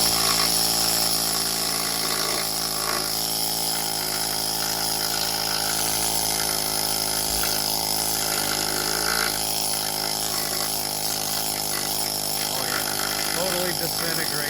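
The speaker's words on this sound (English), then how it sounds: "I'm just gonna go ahead and get these cleaned up with my needle scaler" A pneumatic needle scaler cleans rusted truck bed clips, giving a steady, loud, buzzing mechanical drone with a fixed pitch that runs without pause.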